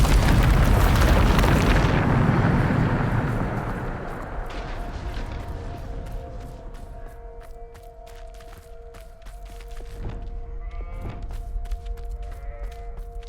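Blasting spell explosions in the game Hogwarts Legacy, a loud roaring boom fading over a few seconds into rumbling debris, followed by scattered crackles, thuds and faint tonal hums.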